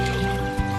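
About a litre of water poured into a cooking pot to boil goat trotters for paya, a full, gurgling rush of liquid filling the vessel, close and loud throughout, with a brief bump near the end.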